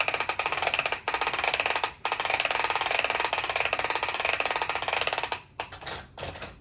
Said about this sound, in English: Okay, I cranked it even more, but it was already cranked.